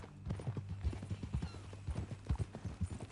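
Horse hooves clip-clopping in the Red Dead Redemption 2 video game, a quick uneven rhythm of close, thudding hoofbeats at a walk or trot, with low background rumble and no speech.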